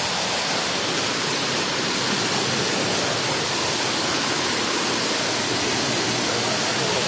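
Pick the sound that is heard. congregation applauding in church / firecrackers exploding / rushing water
rushing water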